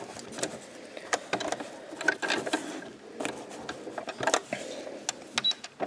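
A sewing machine stitches a straight seam on a fabric knitting bag, running in short bursts with stops and a forward-and-reverse backstitch, close and fairly quiet with light handling clatter between runs.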